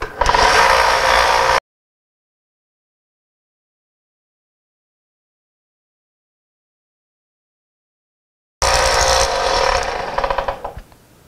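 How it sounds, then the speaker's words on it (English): A small belt sander cleans up plywood corners, its loud close grinding rasp heard in two bursts separated by a long stretch of dead silence, the second burst trailing off as the work lifts away. "last thing I want to do is clean these corners up on this little belt sander."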